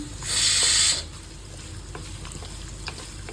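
Ginger dropped into a hot pan, a loud close burst of sizzling that quickly settles into a softer frying hiss with light stirring clicks.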